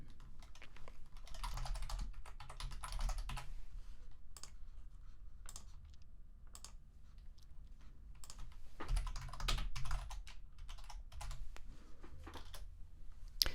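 Keys clatter on a computer keyboard as someone fills out a form in office software, with quick bursts of close, crisp clicks broken by short pauses.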